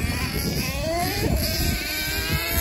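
A Serpent SRX8 nitro RC buggy engine buzzes steadily at high pitch, its whine rising and falling with throttle over a continuous outdoor run, with faint background noise and no clear talk.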